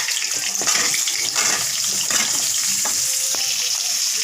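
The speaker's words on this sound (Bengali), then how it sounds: "এখন মিষ্টি কুমড়োগুলো ভেজে নিচ্ছি।" Steady sizzling and spattering from pumpkin pieces frying in a pan, with occasional scraping and clinking of a spatula, close and continuous.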